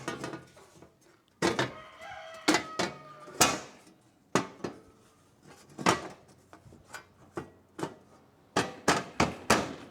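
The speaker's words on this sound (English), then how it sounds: "I've got chickens and they are just doing their best to destroy this filming session." Backyard chickens cluck and a rooster crows in short repeated bursts, fairly close and moderately loud, with intermittent knocking sounds between calls.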